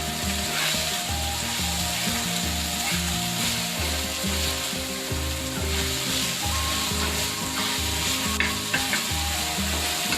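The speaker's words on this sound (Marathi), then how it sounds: "सगळं एकत्र मिक्स करून घ्यायचं कांदा टोमॅटो हिरव्या मिरचीमध्ये" Onion, tomato and green chilli frying in a pan for a spicy bombil chutney, a steady loud sizzle with repeated scraping stirs at a close, even pace throughout, no voices.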